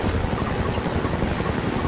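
Steady, loud rotor roar of a mine-laying combat helicopter in the video game Half-Life 2, a dense continuous drone with no gaps and no talk over it.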